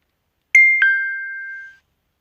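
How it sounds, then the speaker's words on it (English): A phone notification chime sounds in two quick rising tones, then a clear ringing note that fades out over about a second, alone in a quiet room. "Forgot to switch off my phone sound when recording this audio."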